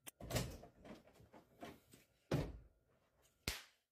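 A door slams hard in a tense domestic argument at home, with several sharp, loud thuds spaced across a few seconds and quieter knocks and shuffling between them.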